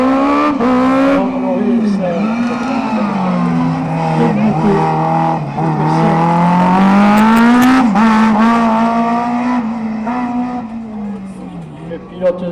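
A Ford-engined race car at the Carcassonne slalom, its engine loud and near, revving and shifting pitch repeatedly through the run with brief tire noise, while a voice announces over it.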